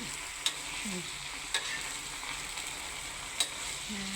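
Bok choy stir-fried in a pan for a vegetarian dish, a constant hissing sizzle with three distinct spatula clacks spaced across the span, no talking.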